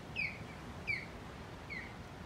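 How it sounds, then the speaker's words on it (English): Three distinct bird calls ring out from overhead on a North Naples, Florida beach on a morning walk, sharp, high and spaced about evenly apart, with faint surf-like background noise and no talking. "Listen to the birds."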